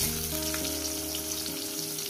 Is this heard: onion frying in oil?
yes